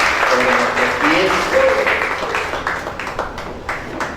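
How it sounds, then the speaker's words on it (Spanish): A church congregation applauds together during a Spanish-language worship service, a wash of clapping under a voice speaking over it, close and fairly loud. "Damos un aplauso al Señor"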